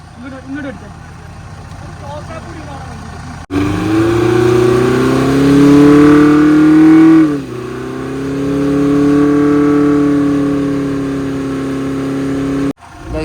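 A vehicle engine revs hard while the vehicle is being pulled and rolls downhill, rising into a loud, sustained strain, dipping, then surging again before cutting off abruptly, with voices around it.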